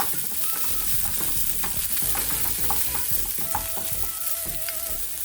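Onions sauté in a pan with a dense sizzle, punctuated by repeated clinks and scrapes from stirring that fall in an uneven rhythm and stay close and fairly loud. No voices.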